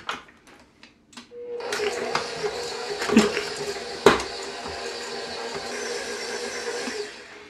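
An electric mixer whirs steadily while creaming room-temperature butter and sugar for gluten-free Linzer cookie dough, starting after a few clicks, with knocks against the bowl and a voice speaking over the motor.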